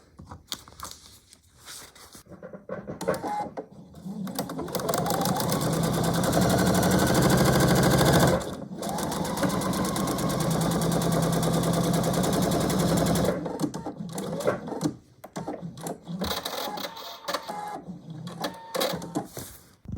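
A sewing machine stitching a quilt block along a marked sew line, a fast, even mechanical whir that runs steadily for several seconds, with a brief pause in the middle, framed by fabric handling and clicks before and after.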